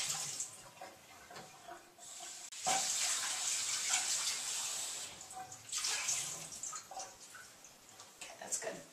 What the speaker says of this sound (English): what we want to do is rinse them in water to remove any sand or grit that might be remaining